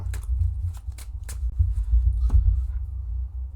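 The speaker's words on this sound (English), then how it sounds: "pile shuffle now." A deck of Magic playing cards is pile shuffled, with a series of sharp, separate card slaps and flicks spaced irregularly over a low background rumble, close by and without speech.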